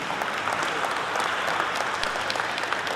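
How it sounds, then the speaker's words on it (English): Steady audience applause at an event at the BKC stock exchange, an even crackle of many hands clapping continuously at moderate level, with no voices over it. "But a huge round of applause first for Swati."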